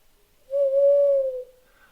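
A person imitates an owl with a single smooth, drawn-out hoot, clear and close, during a night ghost hunt at Llanfyllin Workhouse.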